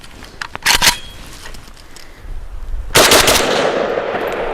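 A Thunder Ranch VSKA rifle with a US Palm Enhanced magazine firing outdoors: a couple of sharp, loud shots early, a lull, then a rapid string of close, booming reports with ringing echo.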